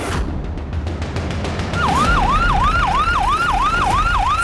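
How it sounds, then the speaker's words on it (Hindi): An emergency vehicle siren wails in a rapid, repeating up-and-down cycle, loud and near, rising over a low engine rumble. "साइरन बंद कीजिए प्लीज"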